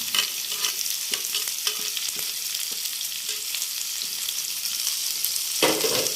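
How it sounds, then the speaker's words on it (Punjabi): Sliced onions fry with garlic and ginger in a pan, a steady sizzle broken by repeated spatula scrapes and taps at an irregular rhythm, near and with no one speaking. "ਹੁਣ ਆਪਾਂ ਨਾ ਇਹਦੇ ਨਾਲ ਹੀ ਇਹ ਪਿਆਜ਼ ਪਾ ਦੇਾਂਗੇ ਇਸ ਤਰ੍ਹਾਂ ਕਰਕੇ"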